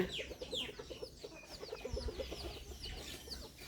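Bantam chickens clucking close by in a quick run of short, repeated calls, with higher chirps from other birds mixed in over a faint background.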